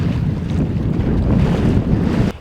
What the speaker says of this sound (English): We're going to be sailing into the wind.